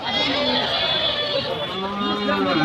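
Goats bleat at the busy Nayarhat livestock market in Harirampur, Manikganj. Wavering animal calls rise over a dense, constant crowd din.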